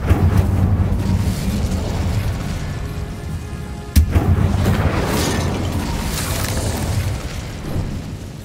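Incendio fire spell cast in the Hogwarts Legacy video game. A loud, rumbling fiery roar is marked by a sharp burst near the middle and then continues and slowly fades.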